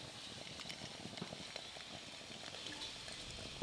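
Langcha sweets frying in lightly warm oil, a soft, steady bubbling sizzle with faint crackles, quiet and even throughout, with no voices.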